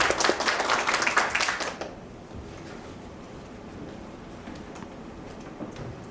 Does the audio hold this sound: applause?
yes